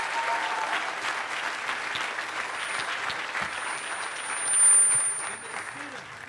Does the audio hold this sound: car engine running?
no